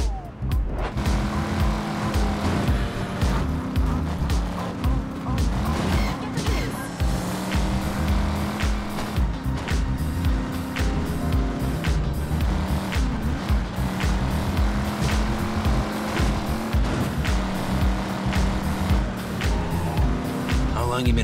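A car engine revs and roars continuously while driving in the video game Driver: Parallel Lines, loud and up close with shifting pitch, mixed with music and speech.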